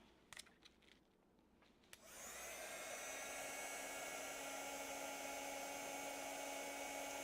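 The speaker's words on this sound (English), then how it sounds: "So let's get the heat tool on that." A heat embossing tool switches on after a few faint handling clicks and then blows hot air in a steady, loud, continuous whir that runs to the end.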